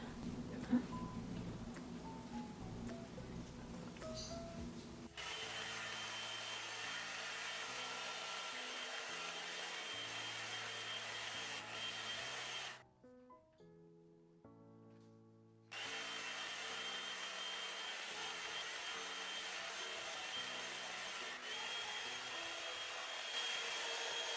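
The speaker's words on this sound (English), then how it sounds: "So I'm just gonna blow dry my hair and I'll show you how it looks like." A hair dryer blows hair dry at home with a steady, loud whir, cut off briefly partway through and then resumed; talk or background music runs underneath the motor noise.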